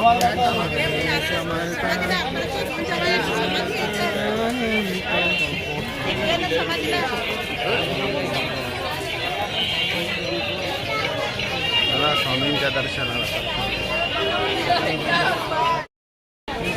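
Busy crowd chatter at a crowded temple, a dense babble of many voices close around, with people talking nearby throughout and a brief dropout near the end.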